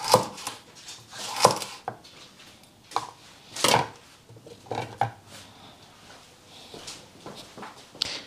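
Celery is sliced with a knife on a cutting board in uneven bursts of crisp chops and short knocks, close and fairly loud, with brief quiet gaps between strokes.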